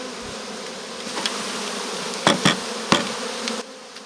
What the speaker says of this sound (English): the bees are really working, and you can see how strong this hive is